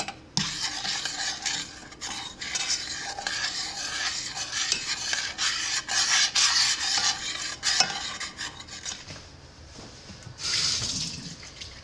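Steady scraping and stirring of brown sugar and cinnamon melting in a pan over medium-low heat, a continuous spoon-against-pan rasp that pauses briefly near the end before one more burst, with no talking.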